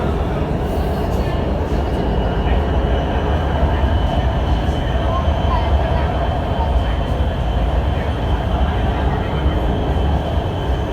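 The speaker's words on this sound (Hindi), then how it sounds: "दरवाजे बंद हो रहे हैं और ये मेट्रो ऑरेंज ट्रेन चलने लगी है।" Orange Line metro train in Lahore pulling away, a loud continuous rumble of wheels and motors from inside the carriage, with faint voices beneath.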